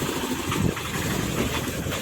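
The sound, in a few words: speed boat engine idling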